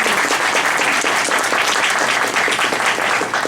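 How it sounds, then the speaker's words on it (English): Audience applause at a New York City Bar Association panel on women's access to justice, a dense, steady wash of clapping that stays loud and even throughout without a break. "Let's give a round of applause."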